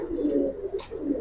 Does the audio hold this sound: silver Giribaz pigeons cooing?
yes